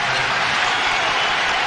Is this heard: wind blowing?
no